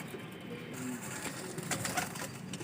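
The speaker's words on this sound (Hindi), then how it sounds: "अब आपको मैं इनके बाद जो रेड आइज कबूतर है ना, वो भी बड़ी लाजवाब" Red-eyed breeder pigeons coo softly in a loft, low murmuring calls repeating over a steady background hum, close and moderately loud with no talking.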